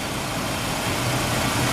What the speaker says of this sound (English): And you can hear the engine bogging down quite a bit,